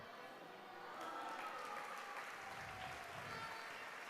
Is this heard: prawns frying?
no